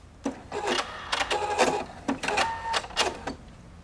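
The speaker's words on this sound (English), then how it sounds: "it means it'll do one pattern only and then stop" Husqvarna Viking Opal 690Q sewing machine running a single stitch pattern in short bursts, several quick stitching runs with brief pauses before it stops and locks the stitch.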